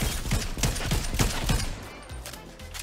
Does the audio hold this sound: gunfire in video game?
yes